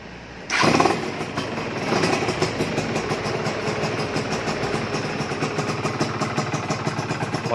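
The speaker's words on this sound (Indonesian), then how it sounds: "Motornya stasioner." A Yamaha F1Z motorcycle, an all-white limited edition with a modified engine, starts abruptly and loudly. It settles straight into a steady, rapid idle with a rattling two-stroke beat, close up and with no talk.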